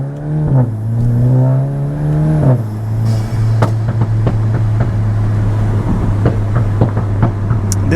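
A VW MK8 GTI fitted with a Milltek race exhaust, revving up from idle in two loud climbing pulls before settling back to a deep idle drone with a few sharp pops and crackles.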